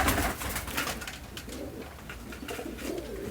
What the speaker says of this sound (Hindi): ये प्योर कबूतर है माशाल्लाह से, भरपूर नायाब कबूतर है।